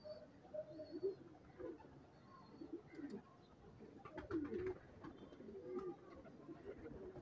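Soft, low cooing from pigeons, repeated several times against a quiet background with faint murmuring voices.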